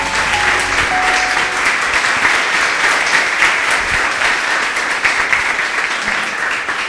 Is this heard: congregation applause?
yes